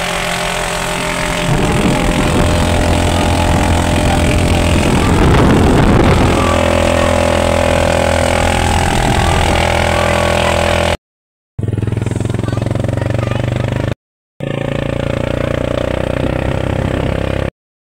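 Motorboat engine at sea off Pagadian City: a loud, steady engine drone runs close by throughout and cuts out briefly twice near the end, with no clear talk.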